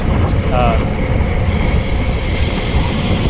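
Strong, steady wind buffeting the microphone during a bicycle criterium race for 50+ Category 1-2-3 riders, a continuous roaring rush with no clear speech over it.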